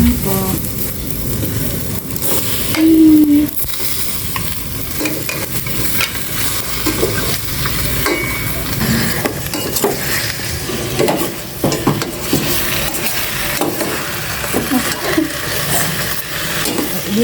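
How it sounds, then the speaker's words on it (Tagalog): Pork and onions sauté in a pan, a steady sizzle with scraping stirs of a utensil against the metal, close by, with occasional faint talk in the background. "Gisa muna natin maigi bago natin lagyan ng mga pansalasa"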